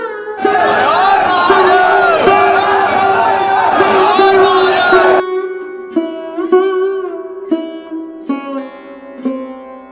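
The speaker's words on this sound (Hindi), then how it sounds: "आज तो भीड़ काफ़ी दिख रही है क्योंकि सोमवार है और सावन का भी" A dense crowd of pilgrims at Mahakaleshwar Temple in Ujjain on a Shravan Monday, loud overlapping chanting and shouting voices that thin out into scattered calls and nearby speech.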